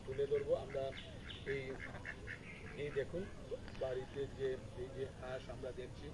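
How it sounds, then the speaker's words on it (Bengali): Ducks quack near a house in a flood-hit village, clustered bursts of calls at close range throughout, mixed with people talking in the background and general outdoor noise. "এই হাঁসগুলো এখনো মানে আছে এখানে"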